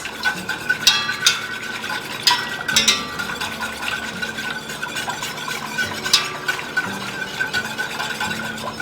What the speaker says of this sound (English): I'm going to go ahead and I'm going to whisk this